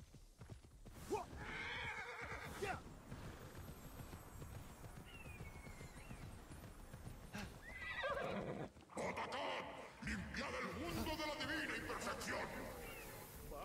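In Immortals Fenyx Rising, a horse gallops with rapid clip-clop hoofbeats and lets out several loud whinnies, against a busy game soundscape.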